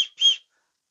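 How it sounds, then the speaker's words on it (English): A small whistle on the end of a fishing tackle light gives two short, shrill, close blasts, the second slightly longer, then falls silent. "it has got a whistle on the end"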